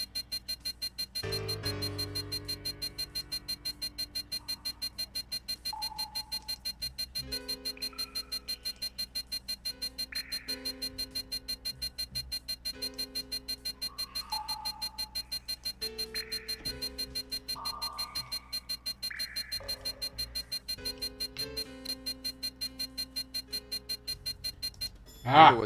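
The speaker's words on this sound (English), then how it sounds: "This beeping is driving me absolutely batshit crazy." An alarm in the Tex Murphy: Pandora Directive video game beeps in a rapid, unbroken rhythm throughout. Over the steady pulses, soft musical tones rise and fall, and one sharp louder burst comes at the very end.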